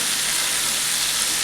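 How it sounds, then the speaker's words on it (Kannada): Green masala fish fries on a hot tawa with a short burst of steady, close, hissing sizzle and fine crackle, without any voices. "ಇದು 4 ಮೀನನ್ನು ತವ ಫ್ರೈ ಮಾಡಿ"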